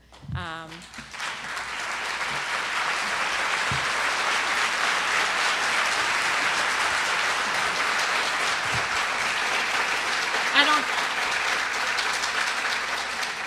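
Loud, sustained applause from a large crowd at a school board meeting, steady clapping filling the whole stretch with a brief swell near the end.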